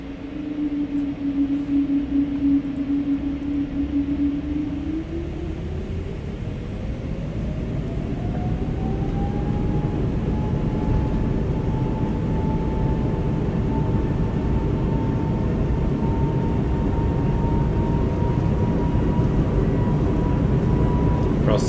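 Swiss Airbus A220 airliner engines spool up for a takeoff roll on runway 28 at Zürich, a loud steady roar with a whining tone climbing in pitch and then holding high for the rest of the run.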